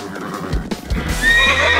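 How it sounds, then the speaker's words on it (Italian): A winged horse in an animated children's cartoon gives a short, close neigh over a brief rustle of background sound. "Un cavallo alato!"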